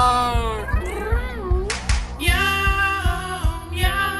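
A human voice imitates a cat, giving drawn-out meows with rising and falling pitch over a steady rhythmic musical backing.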